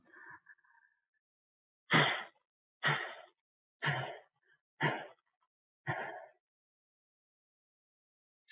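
Slow, deep breaths during a chakra breathing exercise, five evenly spaced breathy swells about a second apart, close and quiet with silence between.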